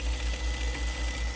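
A sewing machine stitching a fabric market tote, its motor running in a steady fast chug with a regular pulsing rhythm, close and fairly loud with no voices.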